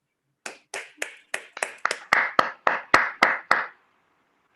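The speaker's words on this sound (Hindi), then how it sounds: "सब लोग अपने जगह पे बैठ के तालियां बजाएंगे जोरदार।" About fifteen separate sharp claps in a steady rhythm, close and distinct rather than a crowd wash, gathering pace and weight before stopping abruptly, at a business open meet.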